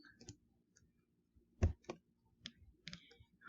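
Keyboard typing into a spreadsheet's name box: a few sparse, quiet key clicks spaced irregularly over a few seconds, with one slightly louder tap partway through and near-silence between presses.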